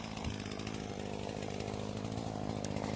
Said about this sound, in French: On a pris la débroussailleuse, tronçonneuse et on coupe tout.